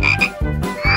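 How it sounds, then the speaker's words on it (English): Cartoonish frog croaks in a comedy sketch, three loud, throaty pulses in quick succession with no talk over them. "What should I do with my frog?"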